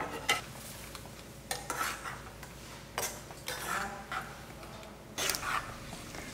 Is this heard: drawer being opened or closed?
no